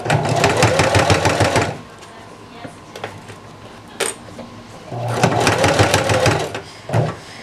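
A sewing machine runs right off the edge to tack down the last corner of a kit-made vest, stitching in two loud, fast rattling bursts separated by a quieter pause with brief clicks.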